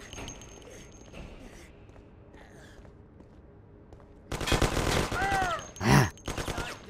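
Sudden loud volley of gunfire in the Mafia I parking garage shootout, rapid shots clustered after a quieter stretch with faint background sounds, with a voice speaking briefly amid the shooting.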